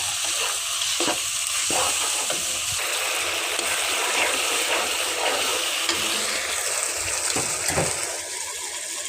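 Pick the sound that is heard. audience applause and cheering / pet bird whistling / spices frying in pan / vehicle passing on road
spices frying in pan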